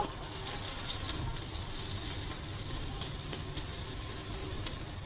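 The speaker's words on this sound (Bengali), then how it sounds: "এবার আমি আস্তে আস্তে করে একটা একটা করে ফ্রাই করতে দিয়ে দিই। এটা শ্যালো ফ্রাই করব।" Jackfruit seed kebabs shallow frying in oil on a flat griddle give off a steady, close sizzle with faint crackles throughout.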